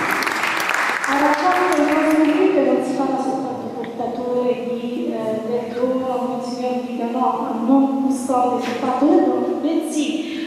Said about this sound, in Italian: accogliamo di nuovo con un grande applauso